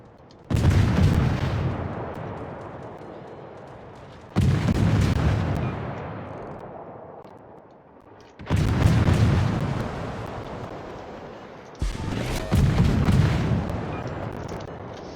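Naval guns of the destroyer Udaloi firing in the World of Warships game: four heavy booming salvos a few seconds apart, each followed by a long rolling decay, loud and without voices.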